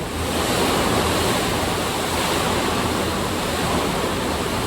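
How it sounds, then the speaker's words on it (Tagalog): A loud, continuous roar of typhoon wind and rain, dense and unbroken throughout, with no voices. "Ang lakas ng hangin, tapos ng ulan."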